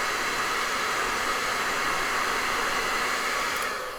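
A hair dryer blows steadily and loudly, up close, to dry paint on an eagle painting, its broad, even hiss holding for the whole stretch before easing off at the end.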